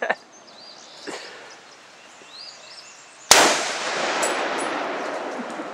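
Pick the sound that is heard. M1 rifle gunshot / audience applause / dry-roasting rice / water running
M1 rifle gunshot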